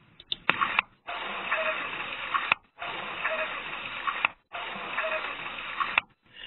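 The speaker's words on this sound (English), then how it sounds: "That is what we think is what the PTO sounds like." A tractor's PTO (power take-off) runs as a steady, band-limited mechanical whir in three long bursts separated by short gaps, with no talk.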